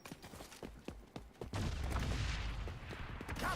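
In the game XDefiant, sharp bursts of gunfire crack out one after another, then a grenade explosion sets off a sustained, rumbling low boom that fills the rest of the moment.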